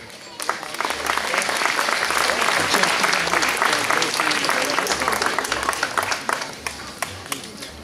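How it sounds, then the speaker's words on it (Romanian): Audience applause at an outdoor vocal-symphonic concert and award ceremony in a park, a dense, sustained burst of many hands clapping that carries steadily for several seconds before thinning slightly at the end. "să-i aplaudăm și să-i încurajăm"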